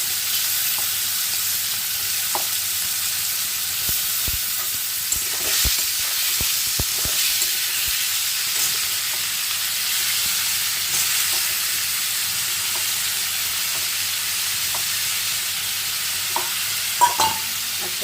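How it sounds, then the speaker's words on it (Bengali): Prawns seasoned with salt and turmeric fry in hot oil over a high gas flame, giving a loud, even sizzle throughout with scattered light stirring clicks and taps. "দেখো এখানে চিংড়ি মাছটা ভাজা হচ্ছে"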